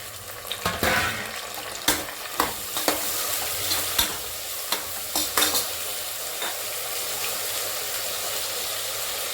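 Tomatoes tipped into a pan of frying green chillies, a continuous close sizzle punctuated by a series of sharp clatters and scrapes as the mixture is stirred, with no talking.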